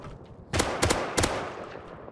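AK rifle fire in the video game Rust: a few sharp, loud shots in two quick pairs after a short quiet lead-in, each with a brief ringing tail, and no voices.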